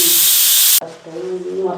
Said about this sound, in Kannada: ಕುಕ್ಕರ್ ವಿಸಿಲ್ ಬಿಡ್ತಾ ಇದೆ